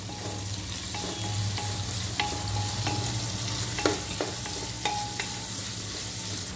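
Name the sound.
stirring biryani vegetables frying in ghee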